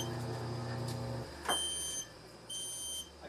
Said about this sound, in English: our working smoke alarms are going off that we have here in our safety trailer